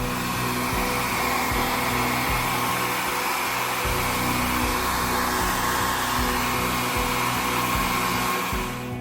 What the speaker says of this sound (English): Now you're gonna grab your blow dryer and dry it.